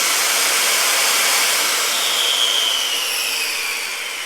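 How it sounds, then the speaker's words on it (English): A circular saw's motor whines loudly at full speed, a steady high-pitched spin with no load on the blade, then tapers as it winds down near the end. "just pull the trigger and get the feel for how is it gonna feel when it turns on, how is it going to feel when the motor is running"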